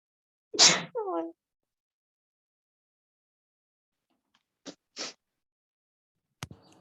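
A single sharp sneeze bursts out, followed after a pause by a few brief soft clicks and rustles in an otherwise quiet room.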